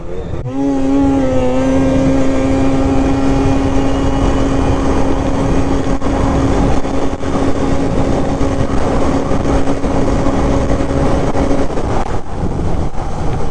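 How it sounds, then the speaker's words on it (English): A 600 Catalyst snowmobile engine held at high RPM through a full-throttle pull, a loud, steady buzzing whine that climbs briefly at the start then sustains evenly for about twelve seconds before dropping off. "I'm going to do one more full pull with just RPM up for that whole stretch and see what it gets."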